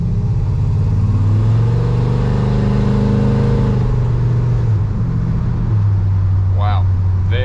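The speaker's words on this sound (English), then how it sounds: "Go ahead and give it about a 1/4 throttle here." A 1953 Chevrolet 3100 truck engine pulls at quarter throttle, a loud, low, steady drone that rises and then settles, heard from inside the cab, with a voice speaking briefly near the end.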